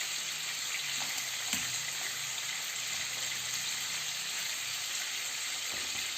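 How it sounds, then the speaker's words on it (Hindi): Fish bones shallow-frying in hot oil for a curry, giving a steady, close sizzle that crackles on without a break and has no voices over it. "हम सारी फिश को फ्राई कर लेंगे"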